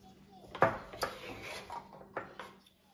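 Chopped canned artichoke hearts drop into a pot with a few soft clatters and scrapes of a utensil against the rim, close by, amid quiet kitchen handling.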